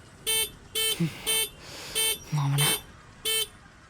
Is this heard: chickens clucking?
no